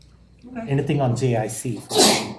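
A single sneeze bursts out in a meeting room during a school board work session, following brief speech from a participant.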